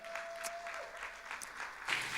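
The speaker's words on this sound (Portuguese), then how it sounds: "Pode aplaudir." Steady applause from a crowd, clapping continuously and swelling slightly louder near the end.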